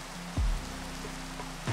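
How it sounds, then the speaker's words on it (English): Steady rain in the Minecraft game, a soft continuous patter with a few low thumps, heard alone with no talk. "Because it's raining and lightning."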